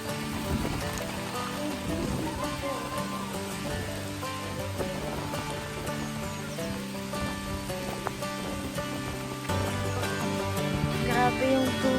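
Rain pours steadily in a dense, continuous hiss at a campsite in Tanay, Philippines, during strong winds, with people's voices faintly mixed in beneath it.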